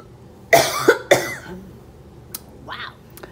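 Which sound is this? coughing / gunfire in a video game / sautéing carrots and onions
coughing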